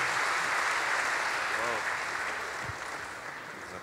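Audience applause at a festival talk with a general, dense continuous clapping that fades slightly toward the end, with a faint voice briefly audible beneath it.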